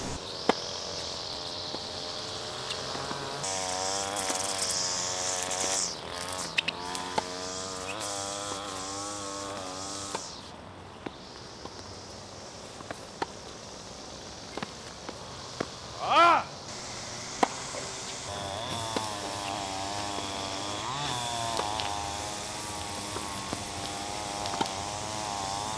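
Lawnmower engines run as a steady, buzzing mechanical drone with shifting pitch, a short lull in the middle and scattered clicks and knocks, loud and close throughout.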